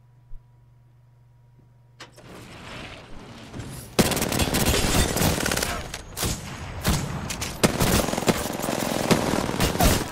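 Rapid automatic gunfire from an Apex Legends match erupts after a quiet start, loud dense bursts of shots with brief pauses between volleys.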